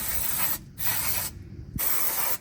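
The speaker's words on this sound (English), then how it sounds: "we'll try some of this fake WD-40 spray that I've never heard of" Off-brand WD-40 style lubricant sprayed from an aerosol can in three bursts, each a sharp close hiss with short silent pauses between, with a faint mechanical click near the end.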